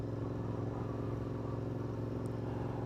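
A Royal Enfield motorcycle rides through the Alps, its engine a steady, even drone that stays constant throughout, heard from on the bike at moderate volume, with no talking.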